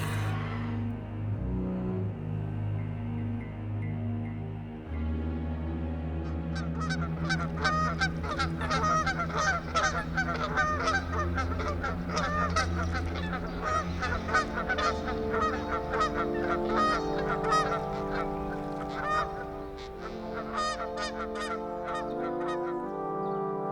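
A flock of geese honks continuously and loudly, many overlapping calls close by, growing busier and more layered after the first few seconds.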